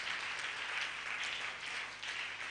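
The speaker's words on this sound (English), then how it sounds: "Clap your hands before we will take our seats." Church congregation clapping their hands together, a dense, continuous wash of applause that holds steady throughout, fairly faint and with no clear speech over it.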